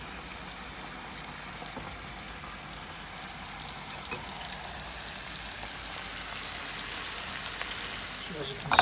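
Food caramelizing in butter in a pan, giving a steady, soft sizzle that holds throughout and swells slightly near the end, faint and close.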